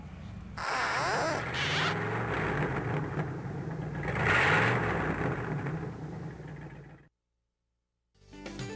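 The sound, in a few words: fire truck engine cranking up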